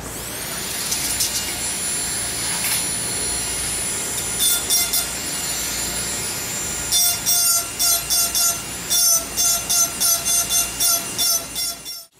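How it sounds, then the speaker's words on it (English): Knife grinding on the flats of fishing and hunting knife blades, a steady high machine whine with a harsh abrasive hiss, breaking into a series of short repeated passes toward the end, no talk. "I'll be laying down a texture pattern on the flats of these fishing and hunting knives"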